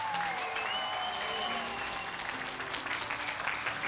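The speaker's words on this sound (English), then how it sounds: "Let's give all of them one more round of applause." Crowd applause at an outdoor Veterans Day ceremony in a park in Marion County, a steady broad wash of clapping lasting throughout, with a faint whistle-like tone early on.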